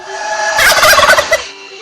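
A turkey gobbles loudly and close by, a rapid burst of warbling, rattling calls lasting about a second over a steady background hum.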